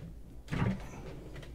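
Drawer on a superyacht cabin sliding on its runners, a short soft rumble and thud after a quiet start, fading into faint room tone.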